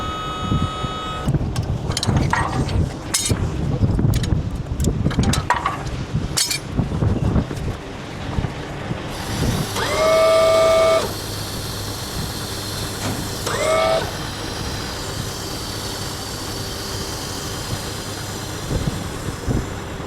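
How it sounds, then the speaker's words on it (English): Truck reversing with a trailer while moving a massive 270 ft boom lift, a rumbling engine with clanks and rattles, then high whining tones and hiss as it backs up, fairly close. "Back up we go again now with the trailer"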